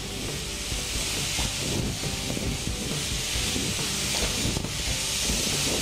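Grated fresh coconut and sugar roast in a pan for coconut laddu with a constant loud hiss and sizzle, joined by soft scraping stirs, and no voice.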